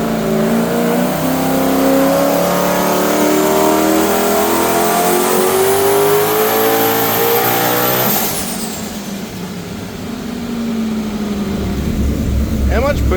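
A 1UZ V8 Toyota Supra with a remote-mount turbo revs hard on a dyno, its loud, close engine note climbing steadily for about eight seconds before it lets off, drops away and then picks up again.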